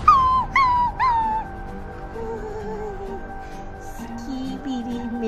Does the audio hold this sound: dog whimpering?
yes